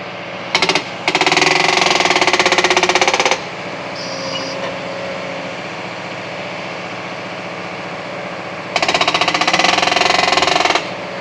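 A JCB Pothole Pro's cropping tool hammers in two loud, rapid, jackhammer-like bursts of several seconds each, separated by a quieter stretch of steady engine idle.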